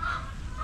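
A hen about to lay an egg cackles on a farm, a brief, steady, nasal clucking call set against low background rumble, heard close and at moderate volume for under a second.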